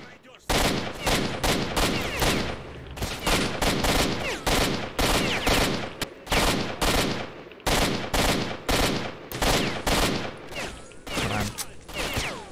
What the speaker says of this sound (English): Stop shooting at me, dude.